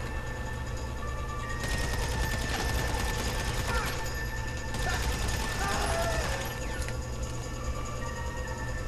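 Repeated gunfire crackles through a firefight in Grand Theft Auto V Online, with bursts of shots over steady game background noise and someone talking over the action.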